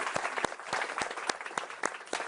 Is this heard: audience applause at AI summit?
yes